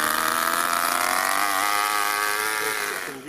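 A small two-cylinder four-stroke overhead-cam engine in an RC car runs fast and slightly rich, a loud buzzing whine holding steady, then dropping sharply in pitch near the end before picking up again.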